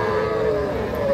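A young bull calf at a cattle market lets out one long, loud, close moo that fills the whole moment, with low market murmur beneath it.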